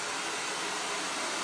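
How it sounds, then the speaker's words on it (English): A hair dryer blows in a steady, even whoosh for the whole moment, set to medium heat while styling hair after a razor haircut. It is close and constant, with no talking. "You can have the hair dryer full power"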